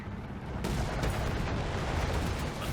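Strafing-run gunfire in a video game: a dense, continuous roar of rapid shots that surges in sharply after a brief quieter lead-in and stays loud and close to the end.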